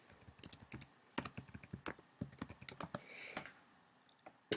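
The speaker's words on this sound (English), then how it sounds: "you're going to type in" Rapid, uneven clicking of keys on a computer keyboard as a web address is typed, close and fairly quiet, with short pauses between bursts and no talking.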